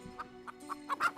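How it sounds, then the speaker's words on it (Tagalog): A chicken clucks in a series of about five short, sharp bursts, growing louder toward the end, with no talk over them. "Pagmasdan mo ang manok na ito"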